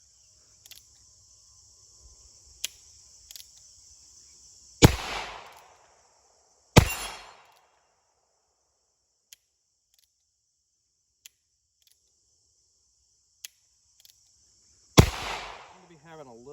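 Three sharp .22 LR revolver shots from a Heritage Barkeep or Ruger Wrangler crack loudly at an outdoor range, spaced seconds apart, with faint clicks and insects in between.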